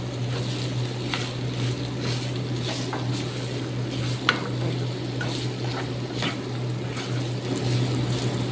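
Ground beef fries in a pan with potatoes and carrots while being stirred, a steady low sizzle with soft scraping and occasional light clicks of the utensil, faint and even, with no talking.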